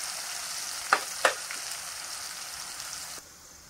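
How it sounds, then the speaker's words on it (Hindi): Sliced onions frying in hot oil in a pan for an arbi curry, a soft continuous sizzle with two sharp spitting crackles early on, close and alone before the sizzle drops away. "इसको अच्छी तरह से लाल करना है प्याज को, लाल होने देंगे इसको।"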